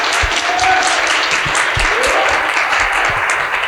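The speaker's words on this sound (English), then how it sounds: "We can give him a round of applause first, y'all." A gathering applauds an Army veteran, steady, close clapping from a modest crowd lasting almost four seconds, with low thumps and a faint voice underneath.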